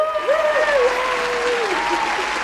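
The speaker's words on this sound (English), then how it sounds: "do you love my fake claps that I do" Steady hand clapping fills the whole stretch, dense and fairly loud, with voiced cheering or whooping tones riding over it.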